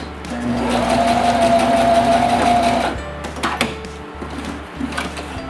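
A sewing machine stitches a seam on a fabric face mask with a loud, steady motor whir for about three seconds, then stops, leaving softer handling clicks and rustles.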